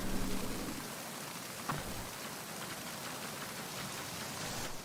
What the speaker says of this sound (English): let's get inside out of this slow down rain